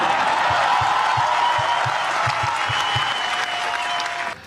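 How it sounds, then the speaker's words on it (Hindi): Audience at a political speech breaking into dense, sustained applause, a thick wash of many clapping hands with a faint crowd murmur, holding steady before cutting off abruptly. "तालियों की गड़गड़ाहट थी"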